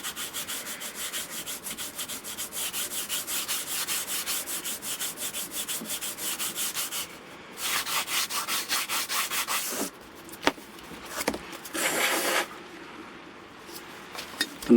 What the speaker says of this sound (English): I'm just going to finish that off with a little bit of sandpaper.